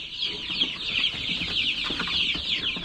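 A flock of large chickens, including rooster stock, clucking and murmuring steadily in a backyard pen, a dense layer of overlapping calls with a few louder clucks standing out.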